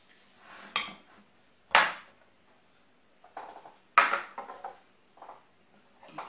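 A utensil clinking against a bowl while muffin batter with salt is stirred, a few separate sharp knocks and scrapes with silence between them.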